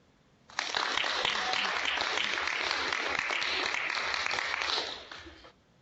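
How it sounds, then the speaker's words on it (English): High school students break into a burst of clapping in greeting, starting abruptly, holding steady for about four seconds, then fading out, heard alone without talk. "So nice clap."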